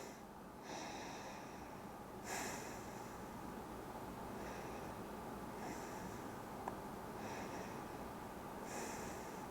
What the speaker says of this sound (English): Nice relaxed breathing.